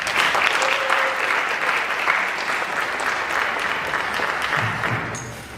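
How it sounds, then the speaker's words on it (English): An indoor audience at a Guyana Independence Day event applauds Councilmember Rita Joseph, a steady, fairly close round of clapping that continues throughout and eases slightly at the end, with a few faint voices beneath. "Let's give a round of applause to Councilmember Rita Joseph."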